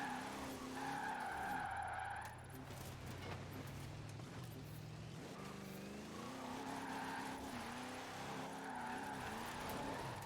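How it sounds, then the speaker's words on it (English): A Ford F-5 Dually pickup in Forza Horizon 4 drives with a droning engine note while its tyres skid and squeal, sustained and fairly close, with pitch shifts as it slides. "The engine noise is definitely a bit disappointing. I feel like it should be much more rumbly."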